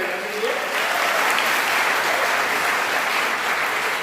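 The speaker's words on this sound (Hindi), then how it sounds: "एक बार जोरदार तालियां बजा दीजिए।" Sustained, loud applause from a large crowd at a Dainik Jagran kavi sammelan (Hindi poetry gathering) in Sitapur, a dense steady wash of clapping that fills the whole moment without a break.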